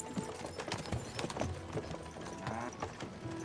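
Horse hooves clip-clop at a steady trot in the video game Kingdom Come: Deliverance 2, close and continuous over soft game ambience, with no talking.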